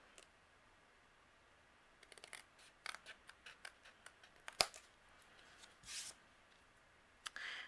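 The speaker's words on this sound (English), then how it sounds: "take our scissors and just trim away the excess" Scissors trim excess acetate from a handmade card panel, a quiet series of short crisp snips and rustles that start after a silent opening and come in irregular bursts up close.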